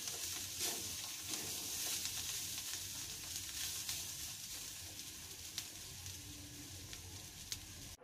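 Moong fry with coriander leaves being stirred in a pan, a steady soft sizzle under faint scraping and occasional clicks of the spoon, quiet and close.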